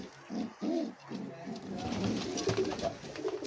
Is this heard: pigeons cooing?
yes